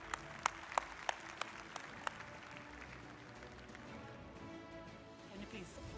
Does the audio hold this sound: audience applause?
yes